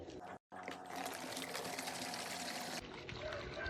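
Water trickling and pouring out of the fuel tank of a petrol brush cutter that would not start, a steady close liquid splash running for several seconds after a brief pause.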